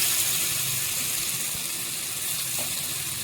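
Onions poured into hot oil with bay leaf in a wok sizzle in a dense, steady hiss that stays loud and even throughout, close up and without talk.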